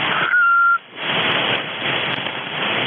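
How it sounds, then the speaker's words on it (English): On an amateur radio voice frequency, someone whistles a brief steady tone into a microphone, heard through a hissing band of radio static that continues after the whistle stops. "The guy who's whistling into the microphone, please stop doing that."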